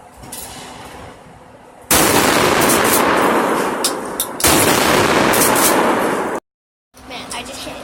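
Shotgun fired outdoors, each blast a loud broad roar lasting a couple of seconds, two heavy booms in a row, then a sudden silence before faint background noise returns.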